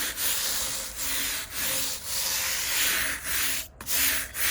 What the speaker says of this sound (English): with a stiff scrubbing brush I'm just going to wet the stone out completely